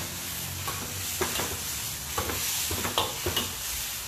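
Beef sizzles in a hot pan with a steady frying hiss, while intermittent scraping and stirring strokes of a utensil punctuate it at close range. No one talks.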